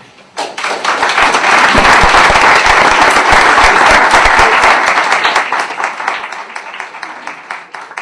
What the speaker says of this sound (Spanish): démosle un gran aplauso a Jorge